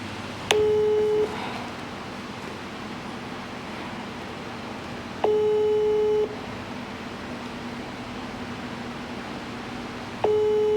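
A steady telephone tone sounds in three long beeps, each about a second, spaced several seconds apart over a faint hiss.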